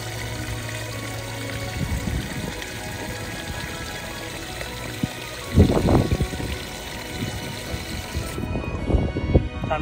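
Water pours and trickles at a campsite, a light continuous stream with louder splashing bursts partway through, heard close with no talking.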